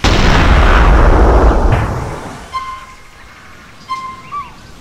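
Loud, dense volley of modded weapon gunfire in GTA San Andreas that fades out over about two seconds, followed by quieter ambient chirps and small sounds.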